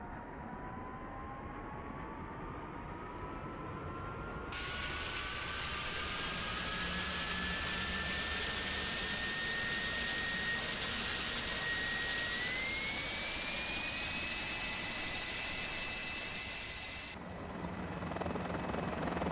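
A helicopter in Microsoft Flight Simulator 2024 powering up, with a steady turbine whine that rises in pitch in stages and a layered engine roar, continuous and fairly loud throughout with no talking.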